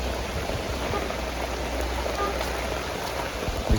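Heavy rain pours down across a neighborhood as a dense, steady hiss and patter, loud and unbroken throughout with no voices.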